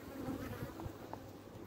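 A steady, dense buzzing of many honeybees hums close by at an opened hive during a winter inspection, continuous and unbroken for the whole moment, with no voices.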